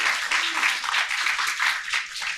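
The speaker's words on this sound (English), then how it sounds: "Let's give a round of applause to all of us." Clapping from an audience at a national final award event in Indonesia, a short burst of fairly dense applause holding steady throughout without voices standing out.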